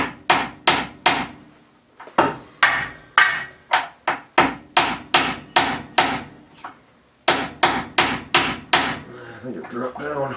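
Hammer blows strike an old bolt to drive the current bolt out of the lower control arm of a 1970 Cutlass Supreme rear axle. The loud, close metallic strikes come in steady runs with two brief pauses.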